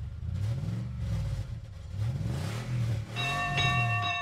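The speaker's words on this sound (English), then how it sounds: "The tram engine rang its bell like a seagull's laughter." A tram engine rumbles and revs steadily, then its bell rings out in a quick series of bright, repeated dings over the engine near the end.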